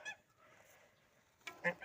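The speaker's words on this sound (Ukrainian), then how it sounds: "О, мої гуси. Вони тут." Domestic geese kept in a rural yard give a burst of honking near the end, a few close, loud calls after a quiet stretch with a faint call at the start.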